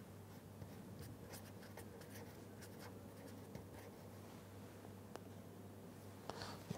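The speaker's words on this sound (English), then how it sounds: "Just let me write down that one also" Handwriting on a page, faint scratchy pen strokes in short irregular bursts over a low steady hum, quiet and close, with no talk.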